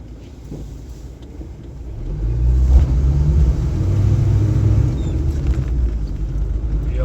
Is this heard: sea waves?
no